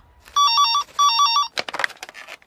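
A telephone rings in two bursts of rapid electronic trills, then stops as brief clattering handling noises follow.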